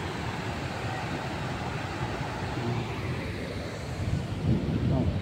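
Breezy wind blows at an outdoor hangout spot in Filinvest Alabang, a steady close rushing roar across the microphone that grows a little louder toward the end.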